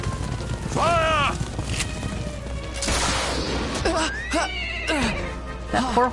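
A horse in Dragon Quest XI S neighs again and again, loud whinnies rising and falling over roughly six seconds amid game effects, with a voice faintly underneath.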